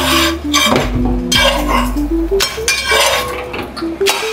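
Dishes and cutlery clatter and clink repeatedly while food is plated, with scraping and knocking of utensils on plates, close and fairly loud, with no talk.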